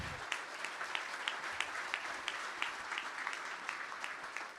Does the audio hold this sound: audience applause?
yes